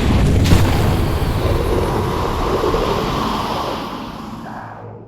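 A head bursting apart in a Warhammer 40k audio drama, heard as a loud sustained boom with rumbling, explosive roar that slowly fades over about five seconds, standing alone without speech.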